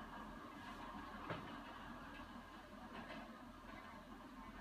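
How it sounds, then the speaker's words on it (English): A train rolls along in a video game, producing a steady, low rumble throughout with a faint clack near the middle. "Hopefully this train is faster than the helicopter"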